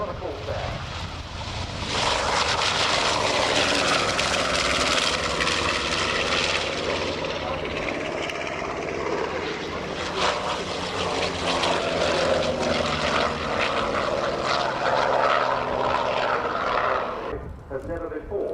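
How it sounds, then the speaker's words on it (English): A North American B-25J Mitchell and a Chance Vought F4U-4 Corsair fly at a British air show, loud roaring piston engines building and sustained close by with a deep propeller drone, while a voice talks over the noise. "Here come the Flying Bulls, the North American B-25J Mitchell and the Chance Vought F4U-4 Corsair."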